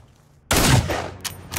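Gunfire bursts out in the video game America's Army Proving Grounds: a sudden loud volley of shots after a near-silent moment, fading into echo before a further sharp crack at the end.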